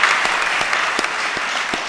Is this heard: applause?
yes